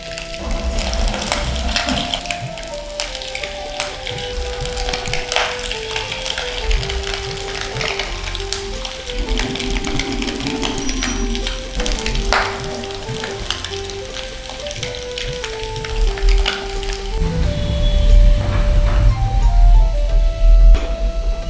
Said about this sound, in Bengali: তেল গরম হয়ে গেছে, এবার আমি পকোড়াগুলো ফ্রাই করতে দেবো।